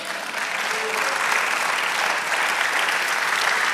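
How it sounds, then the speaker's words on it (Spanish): A steady wash of applause from a church congregation, continuous and sustained throughout, with no gaps or voices standing out. "Del otro aplauso al Señor"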